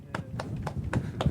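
A small group in a podcast studio claps for a guest, an athletic director: about five sparse, separate hand claps close to the mic, with low voices murmuring underneath.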